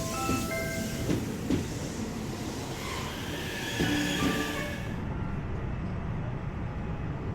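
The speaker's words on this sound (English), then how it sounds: "this first train of the day is pretty busy" A Mizushima Railway train rumbles steadily along the rails with metallic wheel squeals and clicks, a continuous loud rolling noise throughout.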